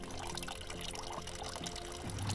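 A spring fountain at the source of the Kamchia river in Bulgaria runs with a steady, close pouring and splashing of water, continuous and fairly quiet, with no talking.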